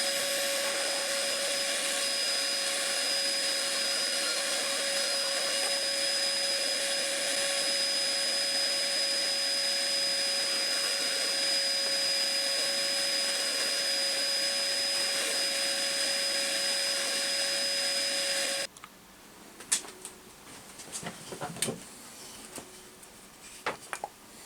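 A power tool whines steadily at high pitch for a long stretch while cutting a big slot in a piece of wood, close and loud, then cuts off abruptly into quieter knocks and handling noises.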